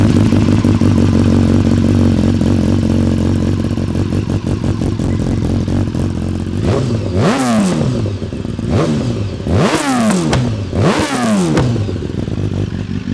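A used BMW superbike engine idles with a steady clattering rumble, then three sharp revs climb and fall back, each throttle blip ending in crackling pops and bangs, close and loud with no one talking.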